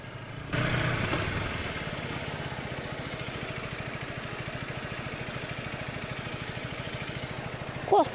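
A motorcycle squeezing along a narrow path in Nepal on the way to a waterfall, its engine running with a steady, rapid, close putter that stays even throughout and rises briefly at the very end.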